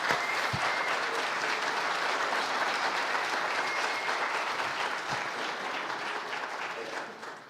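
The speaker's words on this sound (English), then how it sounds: "Let's give him a round of applause for coming" Church audience applauding a pastoral candidate as he comes forward, a steady sustained round of clapping that slowly fades toward the end.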